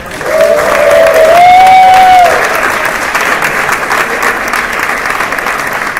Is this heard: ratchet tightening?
no